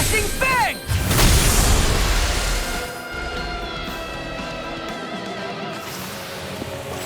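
A Flashing Bang attack explosion in the Tales of Arise video game: a loud booming burst right at the start, followed by a sustained crackling, shimmering rumble that slowly settles, with a brief game voice cry at the onset.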